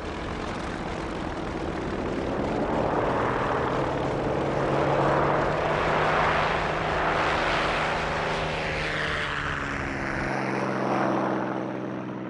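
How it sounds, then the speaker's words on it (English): WWII-era propeller aircraft engines drone steadily in flight, a loud sustained roar that swells and fades slightly as planes pass, with no voices. "they had 75 aircraft in the air."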